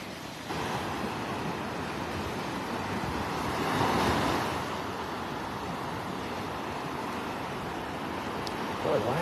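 Calm Gulf waves breaking over sandbars at Vanderbilt Beach, a steady soft wash of surf with a gentle swell in the middle, distant and even, mixed with light wind noise.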